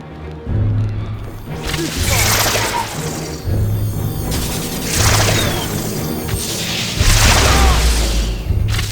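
Spell duel in the Harry Potter and the Half-Blood Prince PC game: repeated loud booming spell blasts and crashing impacts in bursts every second or two, with heavy low rumble throughout.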